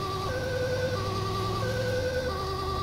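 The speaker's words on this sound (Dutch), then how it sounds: "door mijn sirene hoorde ik hun sirene" Ambulance siren in the video game GTA 5, a steady wailing two-tone sweep sounding loud and continuous over a low engine rumble, with no voices.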